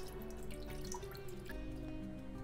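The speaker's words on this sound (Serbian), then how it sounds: "nekih 200 ml ili možda malo manje mlake vode sipamo u ovo" Lukewarm water poured into a baking pan, a soft continuous trickling pour with faint dripping splashes, fairly quiet and steady throughout.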